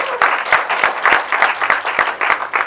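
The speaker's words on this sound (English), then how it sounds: "Round of applause, guys." A small audience claps after a speaker's prompt, the individual hand claps loud and distinct and falling into an uneven rhythm of roughly three per second over a few seconds.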